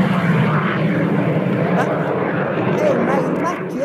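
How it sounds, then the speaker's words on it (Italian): Macchi MB339 PAN jet trainer of the Frecce Tricolori, the Italian national aerobatic team, roaring steadily and loudly throughout as a broadband engine drone, with no talk. "Ma il Macchi MB339 PAN! L'aereo in uso alla pattuglia acrobatica nazionale delle frecce tricolori"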